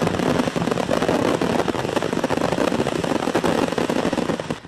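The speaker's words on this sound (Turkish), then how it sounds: "Yüzlerce havai fişek imha edilecekti. Ancak yanlışlıkla patladı." Hundreds of stockpiled fireworks, meant for disposal, accidentally go off at once, producing a loud, dense, unbroken barrage of crackling pops and bangs that never lets up, with no talk.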